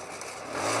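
TVS Apache RTR 180 motorcycle running on a ride around the Pokhara Valley, a steady mid-pitched engine drone that swells slightly louder toward the end of the brief moment, close and alone.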